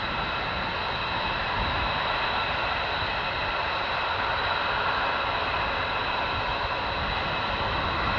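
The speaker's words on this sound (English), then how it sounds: "KC-135 may take off soon, and indeed there she is, right on cue." KC-135 tanker aircraft engines roar in a dense, continuous broadband rush, loud and unchanging throughout, with no voices.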